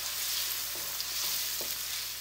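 Cloves, black pepper and cumin sauté in a pan for karahi gosht, giving a steady hissing sizzle with a few faint stirring taps, quiet and with no talk.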